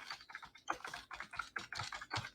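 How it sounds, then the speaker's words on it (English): Keys clatter on a computer keyboard in quick, uneven bursts, close and quiet, with no voice. "if you want to type in something here"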